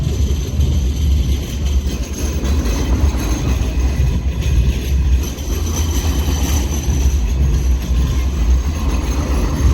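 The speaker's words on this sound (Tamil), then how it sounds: "பெரிய ஒரு லைட் ரயில் இது." A loud, continuous rumbling roar of a Sydney light rail tram passing close by, steady throughout with heavy low-end rattle.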